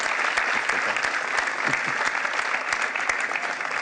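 Audience applause at a town's New Year wishes ceremony, a steady wash of many hands clapping with distinct sharp claps standing out, continuous and moderately loud.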